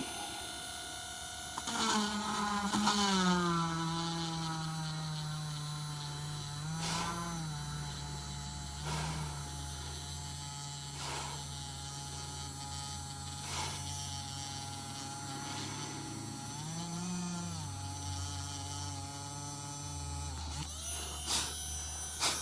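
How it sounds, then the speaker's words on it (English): A diamond or carbide tip bit drills through truck windshield glass, giving a steady whining grind with a wavering pitch that runs almost unbroken at close range, with no talking. "So what I have to do is drill."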